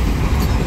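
Freight train 31T rolls past close by in a brief, dense burst of steady rumble and wheel noise on the rails.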